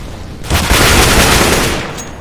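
Pistol gunfire in CS:GO: a dense, loud burst of rapid shots lasting about a second and a half, rising abruptly and then tapering off.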